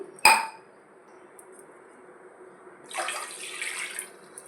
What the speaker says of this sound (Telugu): నూక ఏ గ్లాస్తో తీసుకున్నానో ఆ గ్లాస్తో వాటర్ తీసుకుంటున్నానండి